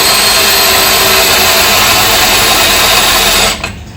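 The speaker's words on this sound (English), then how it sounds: "if I could drill down to the center of this rivet" Power drill boring into a rivet on a Dodge D100 truck, a loud, steady, close grinding whine that runs continuously for about three and a half seconds, then cuts off abruptly.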